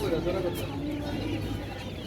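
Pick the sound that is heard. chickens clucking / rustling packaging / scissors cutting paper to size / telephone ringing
chickens clucking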